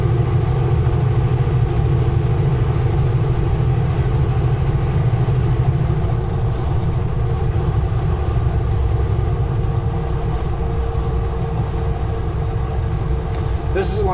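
A car travels a narrow, cliff-edged stretch of the Crowsnest Highway near Manning Park on a stormy evening, giving a steady, continuous engine and road rumble from inside the vehicle throughout.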